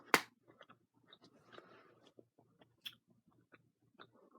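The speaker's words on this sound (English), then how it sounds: "I think it's about chewed enough to blow some bubbles." Someone chews Wrigley's Juicy Fruit Fruity Chews gum close to the mic, making soft, irregular wet smacks and clicks across several seconds, with a sharper snap at the start and no talking.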